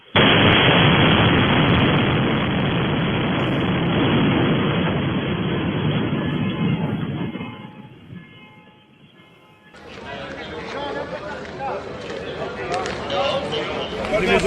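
Iranian missile strike hitting a building in Beersheba, a loud sustained blast rumble fading into quieter noise, followed by a harsher, brighter burst of roaring debris and commotion.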